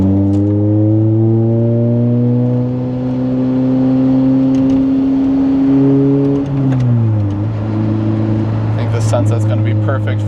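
A Lotus Elise sports car engine drones loudly up close with a vacuum-like intake sound, its pitch rising and then dipping as gears shift, with a voice talking over it.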